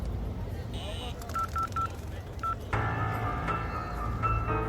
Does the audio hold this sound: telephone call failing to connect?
yes